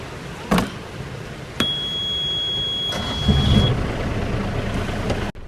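A sailboat's engine throttling up as the boat pushes off and moves out of an open lock on the Okeechobee Waterway, a steady low motor rumble that swells briefly, with a thin high whine and a couple of sharp knocks.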